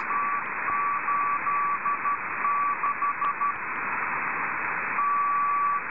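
A steady radio hiss carries an intermittent beeping tone in short Morse-like bursts, then a longer held tone near the end; the signal is combined from two antennas by Linrad software.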